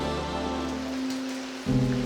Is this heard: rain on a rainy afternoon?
yes